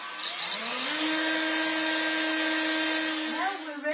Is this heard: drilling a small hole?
yes